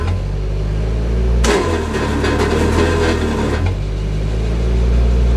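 A generator bogs down heavily as a saw starts on its power, a loud engine drone that drops and roughens for about two seconds before recovering to a steady hum.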